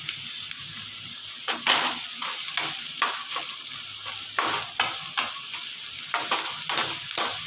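Chopped carrots and beans sizzle and crackle in a hot pan while being stirred for prawn fried rice, with repeated scraping stir strokes over a steady frying hiss, close by and with no talking.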